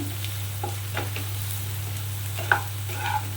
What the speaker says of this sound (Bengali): লঙ্কার গুঁড়োও দেবো এক চামচ মতো একটু নাড়িয়ে নেব